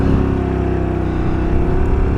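A scooter's engine drones loudly and steadily up close as the rider pulls away into traffic, a continuous buzzing hum with no talk.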